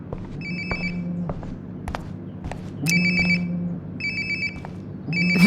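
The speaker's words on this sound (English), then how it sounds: "Sounds like my phone is definitely nearby." A phone rings nearby in the video game Life is Strange: Before the Storm, with repeated electronic ring bursts in a steady on-off pattern over quiet ambient background.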